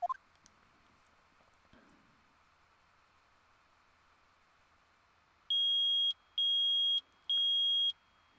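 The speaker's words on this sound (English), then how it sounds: "Beep, beep, beep. It reacted." In the Ace Attorney video game, a metal detector lets out three sharp, evenly spaced electronic beeps near the end, after a quiet stretch with faint background hum.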